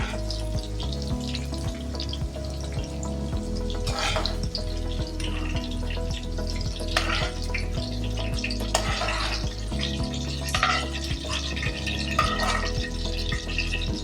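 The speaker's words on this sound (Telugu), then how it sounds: "వేగుతూ ఉన్నాము. కొంచెం మగ్గినాయండి, తీసేస్తున్నాను." Potato and brinjal pieces fry in oil in a pan, giving a steady close sizzle under a constant low hum, with a few scattered pops and clinks of a utensil.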